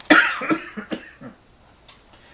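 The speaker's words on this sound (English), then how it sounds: "As you can tell, my cough is back." A few short, harsh coughs in quick succession, close by, followed by a quieter cough after a brief pause.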